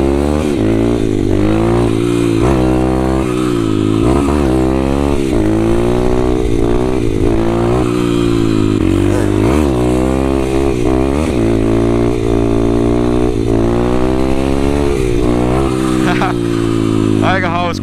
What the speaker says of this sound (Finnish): Joo, tää on tehokas mopo.